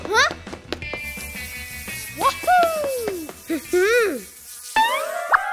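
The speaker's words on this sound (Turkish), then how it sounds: "Bu sivrisineklerden kurtulmak istiyorum." Cartoon mosquitoes whine and buzz in rising and falling swoops, several loud passes close by, mixed with brief sound effects and short character voices.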